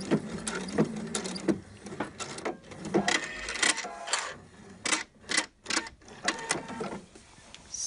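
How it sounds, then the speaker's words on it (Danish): A home sewing machine stitches a shirt collar in Liberty fabric, running in short, close bursts of rapid mechanical clatter separated by brief pauses. "Kommer jeg helt herover til den modsatte side og afslutter min stikning her."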